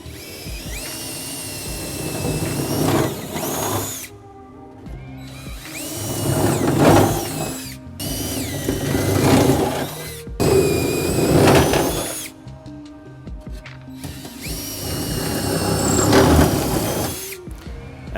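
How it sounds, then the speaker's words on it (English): A power drill whirs in several long bursts separated by short pauses, close and loud, its pitch rising and falling as it bores hitch rail holes in a 2017 Ford F-250. "we're ready to drill the holes for the front rail"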